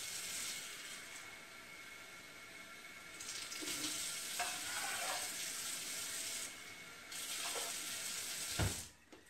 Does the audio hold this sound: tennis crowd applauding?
no